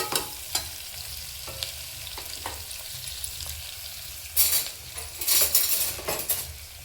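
Small onions sauté in hot oil, a steady close sizzle punctuated by scattered metallic spoon clinks and louder bursts of stirring and scraping in the later seconds.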